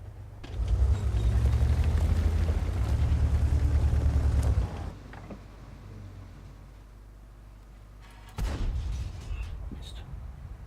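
A tank destroyer's main gun fires in a video game: a heavy blast with a rumbling low roar that fades into engine idle, then another sharp boom near the end.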